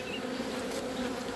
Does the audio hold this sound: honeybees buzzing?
yes